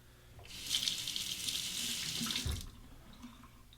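Running tap water pours over a safety razor as it is rinsed at a sink mid-shave, a steady splashing hiss lasting about two seconds before the flow stops, close and clear with no talking.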